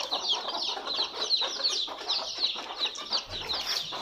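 A flock of local chickens in Tripura, India clucks and chatters nearby, many overlapping calls in a busy, continuous jumble with no talking.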